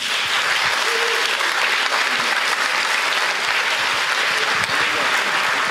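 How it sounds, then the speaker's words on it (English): A live audience at a film talk claps warmly and steadily, a dense, loud wash of applause that holds at an even level throughout. "A warm applause for them both."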